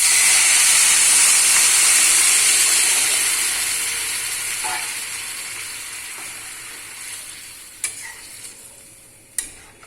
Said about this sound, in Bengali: এখন একটু ফ্রাই হয়ে গেছে, এখন জলটা দিয়ে দেব।